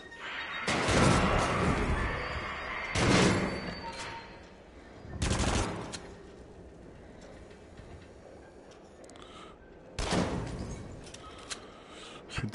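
Gunfire in the VR shooter Until Dawn: Rush of Blood: four loud bursts of shooting separated by quieter stretches, each burst lasting about a second with a rough, sustained crackle.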